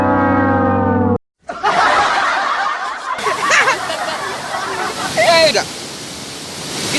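Waterfall at a bathing place in Ambon, Maluku, a steady broadband rush of falling water that fills the scene throughout, briefly cut off near the start, with people's voices and laughter faintly mixed in.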